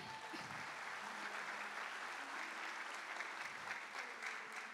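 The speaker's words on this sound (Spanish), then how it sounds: "Fuertes aplausos para ustedes nuevamente." An audience at a TEOMA 2019 presentation breaks into steady, sustained applause, a dense wash of many hands clapping without pause.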